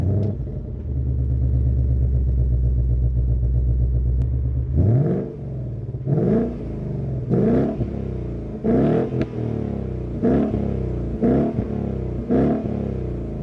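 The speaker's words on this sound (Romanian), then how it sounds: "așa se face cu V8, trebuie să și auzim, nu?" A V8 car engine idles with a steady low rumble, then revs repeatedly in sharp, loud bursts about once per second, each rising and falling back, close by with no talking.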